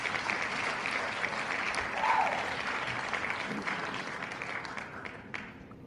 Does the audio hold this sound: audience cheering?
yes